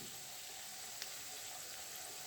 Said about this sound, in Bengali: ভাজা হচ্ছে, দেখো ফ্রাই হয়ে এসছে এটাও।